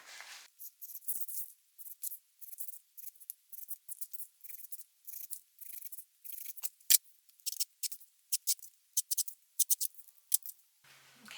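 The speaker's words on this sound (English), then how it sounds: "I'm just going to mark on every corner and just sort of cut that off" Scissors snipping the corners off fabric and foam, a run of short, crisp, close cuts in irregular bursts, some quick and clustered, with no talk.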